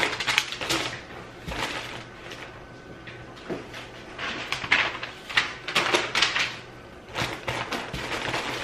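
A Dymo label maker prints and embosses a label, a run of sharp mechanical clicks and clacks in an irregular rhythm, heard close and alone.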